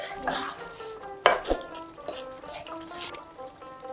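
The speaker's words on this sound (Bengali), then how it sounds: "3 থেকে 4 মিনিট কষে নেব।" Chicken rezala sautéed and stirred in a pan, giving a soft steady sizzle with scraping spoon strokes and a sharp clank of utensil on metal near the start, heard up close.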